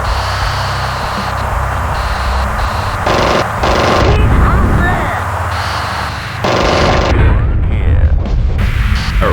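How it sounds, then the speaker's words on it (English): Rapid aircraft cannon and machine-gun fire from enemy fighters in the Fighters Anthology flight combat game, in loud dense bursts over a constant engine roar, with booming impacts along the way. "They've opened fire."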